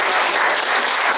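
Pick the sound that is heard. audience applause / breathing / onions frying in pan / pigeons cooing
audience applause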